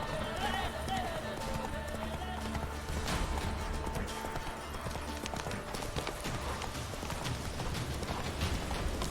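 Roach the horse runs in the video game The Witcher 3, hoofbeats clip-clopping in a quick rhythm beneath game music and ambience, with a person talking over it.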